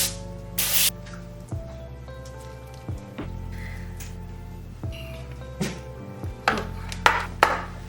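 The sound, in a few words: olive oil cooking spray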